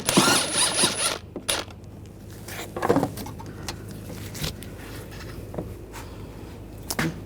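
A bolt being removed from the strut assembly of a Volkswagen Tiguan: short metallic ratcheting and tool bursts near the start and around three seconds, then sparse clicks and clanks against quiet workshop background.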